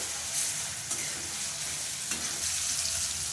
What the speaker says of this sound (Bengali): আলুটাকে ভেজে নিচ্ছি আলু ভাজার জন্য